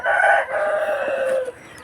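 A rooster crows in a single drawn-out call over soft clucking from backyard chickens at a rural farm, loud and close with no talk.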